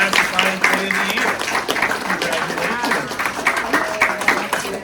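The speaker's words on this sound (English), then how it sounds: "you guys can help me with a round of applause for Mrs. Lima" A high school audience applauds steadily for a teacher, with dense, continuous clapping that is loud and close throughout.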